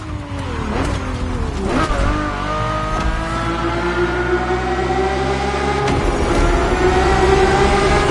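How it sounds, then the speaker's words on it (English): A Ferrari F50's naturally aspirated, Formula One-derived V12 in The Crew Motorfest revs loud and close, its pitch climbing steadily in a continuous wail, broken by a few brief shift dips. "The F50's core is a normally aspirated V12 that came straight from a Formula One."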